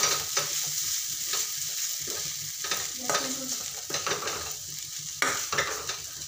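Flattened rice being stirred in a hot pan for kande poha, a steady scraping and gentle sizzle with periodic spoon strokes against the pan, close and alone.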